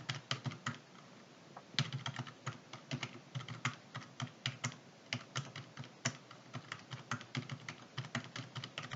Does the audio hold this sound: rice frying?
no